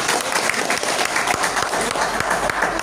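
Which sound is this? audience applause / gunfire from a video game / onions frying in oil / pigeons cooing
audience applause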